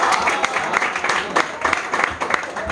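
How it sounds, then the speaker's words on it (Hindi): Crowd applause at a party prize-distribution function, dense, close clapping with sharp individual claps standing out, no speech. "तो तालियां हो जाए।"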